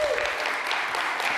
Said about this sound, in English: I think she warrants a gigantic applause.